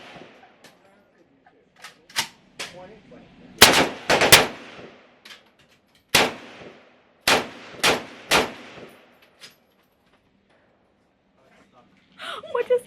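Loud, sharp gunshots at an outdoor shooting range in Vietnam, fired singly and in quick pairs with gaps between, with startled voices and gasps between shots.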